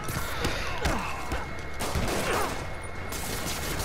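Rocket launcher fire in the Marvel's Spider-Man video game: a dense run of sharp blasts and crashing impacts over a steady rumbling bed, busy and loud throughout, with no talking.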